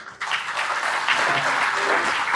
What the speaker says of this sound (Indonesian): Wih, beri aplaus dong.